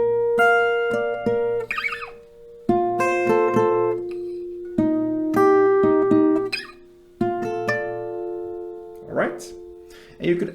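Acoustic guitar plays slow chord grips from a song, each chord strummed and left ringing in separate, spaced hits, close and clear, with a brief pause between groups.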